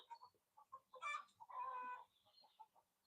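Chickens cluck faintly in a quiet barnyard, a series of short soft clucks with one longer drawn-out call in the middle, heard at a distance.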